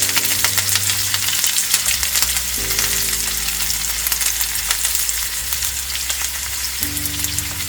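Green chillies are stirred into a hot pan of frying inji puli, a Kerala sadya ginger-tamarind dish: loud, continuous sizzling crackle with scraping stirs, while a steady low hum runs underneath.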